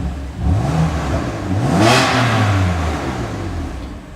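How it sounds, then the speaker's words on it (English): A 2017 BMW M3 with a titanium exhaust revved in comfort mode, the engine note climbing sharply, peaking mid-clip and settling back to a steady, fairly loud drone with no talking. "when you have the car in comfort mode, like I do here, it's basically going to be the comfort exhaust"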